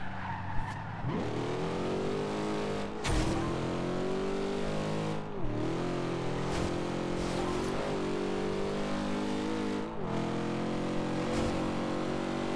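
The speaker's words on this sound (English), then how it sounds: "Another thing that I also really like about the car is the sound of the car." A powerful 1970 Camaro Z28 engine in Forza Horizon 2 roars continuously, revving up and down through gear changes with occasional tire squeals, loud and close throughout.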